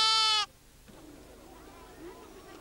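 A sheep lets out one loud, close, harmonic bleat at the start, and it cuts off sharply. Faint, distant bleats and low background noise follow in a rural setting.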